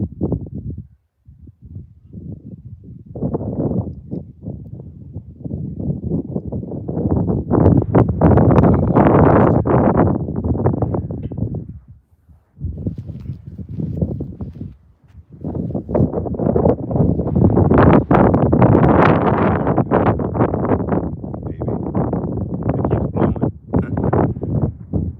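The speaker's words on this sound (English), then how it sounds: "there is a little bit of wind, it might move it." Gusty wind buffets a microphone outdoors near a generator site, a loud continuous roar rising and falling in strong surges with short lulls, no voices.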